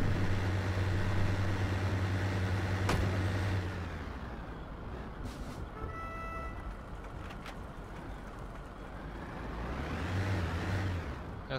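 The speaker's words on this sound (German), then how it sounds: "ich fahre hier schnell rüber" Game vehicle driving in Heroes & Generals, a steady engine drone with a heavy low rumble that eases after a few seconds, then keeps going evenly and swells again near the end, with no voices.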